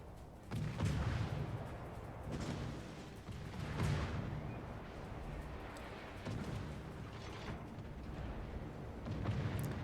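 Naval guns on a Bismarck battleship firing in World of Warships, a series of heavy, rumbling booms spaced a couple of seconds apart over continuous low battle noise, with no talking.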